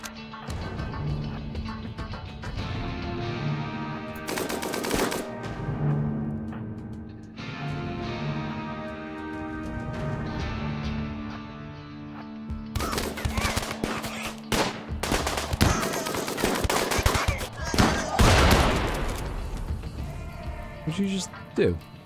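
Gunfire in the video game RimWorld, bursts of rapid shots and sharp cracks over game music, with bleating animals and someone talking throughout.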